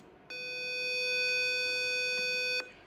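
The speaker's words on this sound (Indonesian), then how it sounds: "itu sesuai bahwa jika lampu on saat ignition off sama dengan alarm menyala" Car safety alarm buzzer sounding with the ignition off as the headlights stay on, a single steady electronic tone held loud and alone for a little over two seconds before cutting off.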